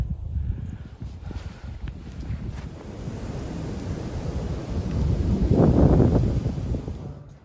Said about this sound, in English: So that wind, we're gonna have to put up with that a little bit.